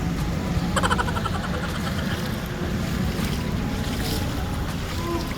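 Rescue boat engines drone steadily amid rushing deep flood water and wind during Typhoon Carina in Quezon City, a continuous loud wash of noise with no clear pauses.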